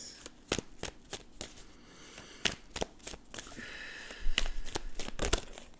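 Tarot cards are shuffled by hand at close range, giving a series of crisp riffling bursts with short pauses between them and a longer rustling run near the end.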